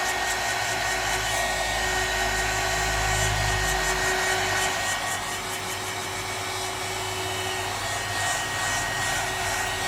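A heat gun warming resin on a handmade salt and pepper mill blows a steady, loud whooshing roar with a fan whine, running continuously and close by without any talk.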